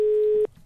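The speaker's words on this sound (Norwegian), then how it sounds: "Telefon går." An electronic telephone ring in a Norwegian comedy TV sketch: a single loud, steady pure tone that cuts off abruptly after under half a second, followed by quiet room noise.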